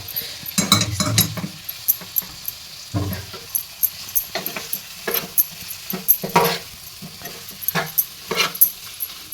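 Prawns fry with onion and tomato in a pan, a soft sizzle under repeated sharp clinks and scrapes of a spoon stirring against metal, close and irregular throughout.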